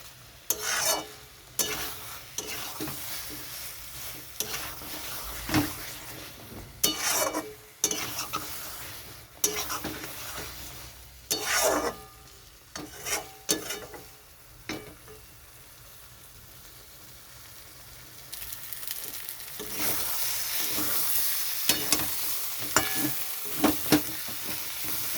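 Boiled new potatoes are sautéed with spices in a pan, heard as repeated bursts of close, scraping spatula strokes against the metal over a steady sizzle, with pauses between them and a louder, continuous frying hiss near the end.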